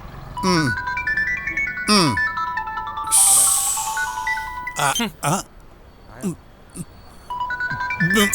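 A melodic phone ringtone plays a bright stepping tune, looping repeatedly while people talk over it nearby.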